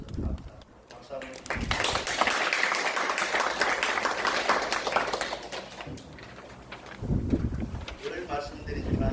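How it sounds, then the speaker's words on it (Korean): A church congregation claps together in a worship hall, a dense, steady patter of many hands swelling for several seconds, fading briefly, then rising again near the end; a voice can be heard speaking. "박수 한번"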